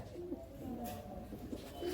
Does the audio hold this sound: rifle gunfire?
no